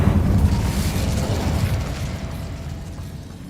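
A loud, rumbling fiery explosion from Confringo and Incendio spells in Hogwarts Legacy, one sustained roaring burst that slowly fades over a few seconds, heard alone without voices.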